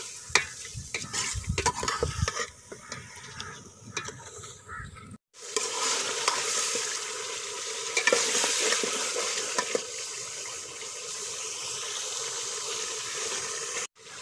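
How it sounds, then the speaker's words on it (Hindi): Meat for chicken biryani fries in a pot over browned onions, giving a steady loud sizzle with scraping stirring strokes, a brief break midway, then continued hissing frying. "अब इसमें हम गोश्त डालेंगे और अच्छी तरह ब्राउन करेंगे"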